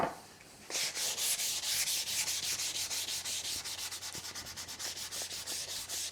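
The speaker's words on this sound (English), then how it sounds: "get yourself some 240 or 320 grit sandpaper and just go along" Edges of a DIY camper kitchen being hand-sanded with 240 or 320 grit sandpaper, a rapid, even back-and-forth rasping that starts after a brief pause and continues steadily, close up with no talking.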